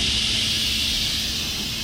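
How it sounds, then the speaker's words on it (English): An Instant Pot pressure cooker vents steam after cooking chicken, giving a steady, loud hiss that runs unbroken from start to end at close range. "I hit the button, it's releasing steam"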